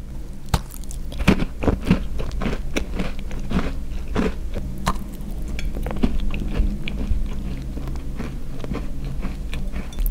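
Repeated sharp crunches as someone bites and chews a Rami cookie from Bbangonista, a coconut-flavored one with a coating that is only slightly crisp. The crunches come close and fairly loud, in an uneven rhythm over a steady low room hum, with no talking.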